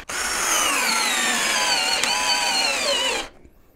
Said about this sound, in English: We've got the brush drill over here.